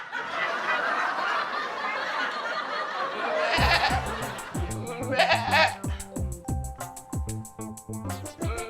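A man imitates a goat, giving a series of wavering, nasal bleats up close, mixed with snickering laughter and talk.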